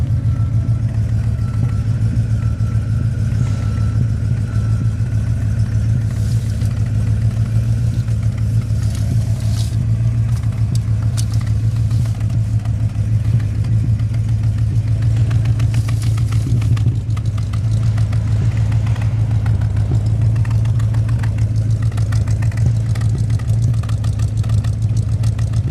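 A 1967 Cadillac Eldorado engine idles steadily and loudly up close, burning old gas with a deep continuous rumble and occasional slight sputters, and no voices.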